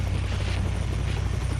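Helicopter lifting off from a chopper pad in Splinter Cell: Blacklist, a loud, close, steady rotor thump with a deep engine drone throughout.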